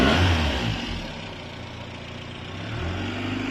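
Renault Super 5 engine running rich on the choke, a steady close-up rumble with a slight surge at the start, then an even idle that lifts again toward the end, with no talk over it.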